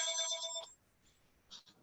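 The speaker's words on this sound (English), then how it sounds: "Our phone's ringing." A telephone rings in a quiet room, one electronic ring burst with bright harmonic tones lasting under a second, then a faint second chirp, moderately distant.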